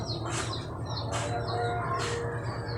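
Three bright, sharp bird chirps repeat at an even pace, each a quick burst of high notes, fairly close over a steady low background hum.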